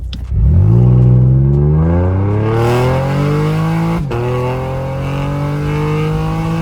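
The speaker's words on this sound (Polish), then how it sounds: "wciskam gaz do dechy i zobaczymy co tutaj się stanie" Chevrolet Camaro accelerating at full throttle from a standstill, engine roaring close and loud as revs climb steadily, a brief drop at a gear change, then climbing again.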